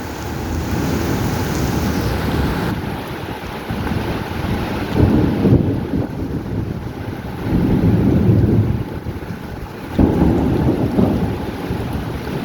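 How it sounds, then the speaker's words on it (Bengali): Heavy rain pouring at a construction site, a loud steady roar with rumbling surges of thunder and gusts buffeting the microphone, with no voices. "দেখেন কি পরিমাণ বৃষ্টি হচ্ছে"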